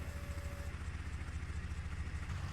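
A farm tractor's engine runs steadily with its PTO hooked up, giving a continuous low, rumbling drone at moderate distance with no break in rhythm.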